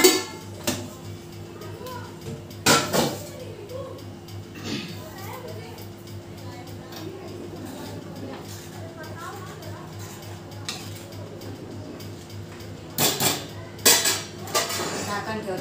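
Cooled bhakri flatbreads being set into a metal kitchen container, with a few sharp clinks and clatters of steel utensils standing out over soft background noise while someone talks.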